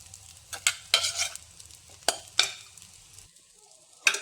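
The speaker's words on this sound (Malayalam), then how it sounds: "ചേർത്തിട്ടൊന്ന് ഇളക്കി കൊടുക്കാം. ഇനി നമുക്കിതിലേക്ക് വേവിച്ച് വെച്ചിരിക്കുന്ന പരിപ്പ് കൂടി ചേർത്ത് കൊടുക്കാം." Cooked lentils being stirred into sweet potato leaves frying in a pan, several sharp spoon scrapes and clacks in an uneven rhythm over a faint low sizzle that drops away toward the end.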